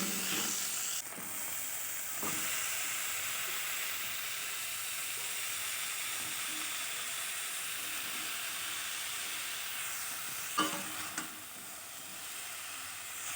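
Small paddy-field fish curry with chopped tomato hisses and sizzles softly in a pan, a low steady frying bed with a few faint stirring knocks near the end and no talking.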